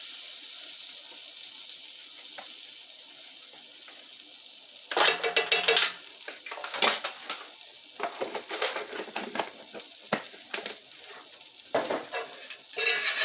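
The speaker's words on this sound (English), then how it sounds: "We're going to put a couple tablespoons of flour in there" Flour cooking and being stirred in a hot pan on the stove, with bursts of scraping and soft sizzling after a quiet start, rising and falling irregularly.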